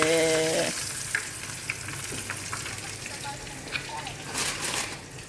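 Fish fries in a pan with a steady crackling sizzle close by, after a brief beeping tone at the start, with occasional clinks and stirring noises throughout.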